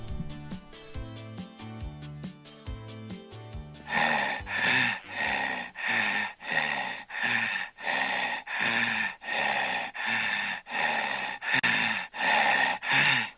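Heavy rhythmic breathing in the manner of a horror-film stalker, loud close gasping inhales and exhales repeating steadily after a short musical opening, with no speech.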